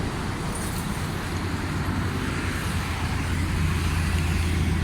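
A Suzuki Mehran engine idles steadily and evenly after its distributor timing and fuel fault were fixed, a continuous low rumble close by without voices.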